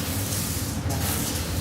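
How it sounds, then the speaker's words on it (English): Water mixed with degreaser sprayed from a cleaning sprayer, a steady broadband hiss lasting under two seconds with no talk. "This is spraying. This is not foaming. Spraying, just spraying. Water and degreaser."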